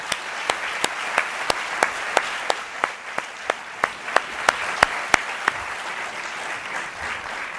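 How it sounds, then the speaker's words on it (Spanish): Audience applause at a talk fills the room: a steady wash of many hands clapping, with a few louder individual claps cracking out in a regular rhythm near the microphone. "un aplauso para ellos."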